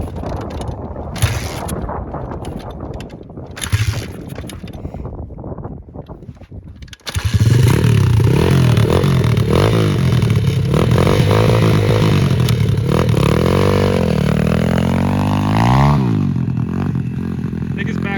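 Motorcycle engine with its back tire spinning on the wheel, starting after mechanical clatter and then revving loud and close with rising and falling pitch, while people talk over it.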